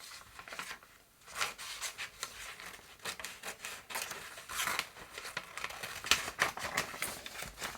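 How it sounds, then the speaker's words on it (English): Scissors snip and rustle through paper while cutting out a leaf image for a garden-themed collage page, close and fairly quiet, with irregular bursts of crisp cutting and rubbing and no talk. "We'll use scissors to cut some of it out."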